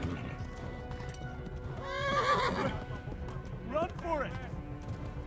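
Tired horse in the medieval game Kingdom Come: Deliverance, hooves clip-clopping steadily while it lets out two loud whinnies, the second shorter, close by.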